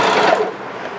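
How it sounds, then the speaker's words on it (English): A sewing machine runs steadily as it stitches fabric for a three-layer ruffle skirt, a loud, close, continuous whir that eases slightly partway through, with no voices. "you're still going to pull on this as you sew, and then it'll straighten that fabric out"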